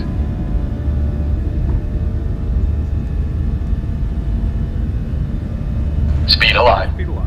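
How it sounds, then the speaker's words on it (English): A newly built airplane's engines hold a steady deep roar and rumble at takeoff thrust, with radio or cockpit talk over the top and a brief burst of voice near the end. "Runway 17 left, RNAV Moon, cleared for takeoff."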